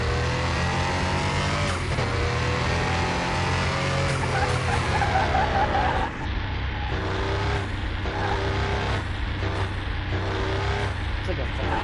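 Racing car engine in a Car Mechanic Simulator 2021 race, a loud continuous roar shifting pitch through gears with tire squeal and skidding, with a player's voice talking over it throughout.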